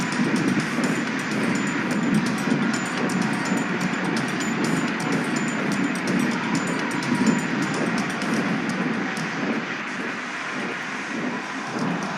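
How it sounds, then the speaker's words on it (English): A steam engine pulls a passenger train, a continuous low mechanical roar with a rhythmic chugging texture, fairly loud and unbroken, with no voices. "The passengers all waved and cheered as Thomas began to pull the train"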